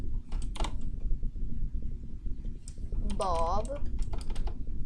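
Keys clatter on a computer keyboard in quick irregular bursts, close and steady, with a person speaking briefly over the typing.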